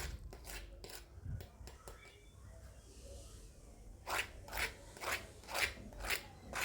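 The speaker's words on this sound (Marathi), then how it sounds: "इथे एक तिलोरी तोडून दाखवते, कशी झाली ते तुमच्या लक्षात येईल" Crisp, fried tilori snacks are snapped apart by hand, first a few scattered crackles, then a run of five or six sharp, crunchy breaks in steady rhythm close up.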